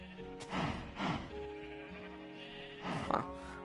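Three sheep bleats, close and clear, spaced over a few seconds against quiet background; the bleats sound slightly processed, like game audio.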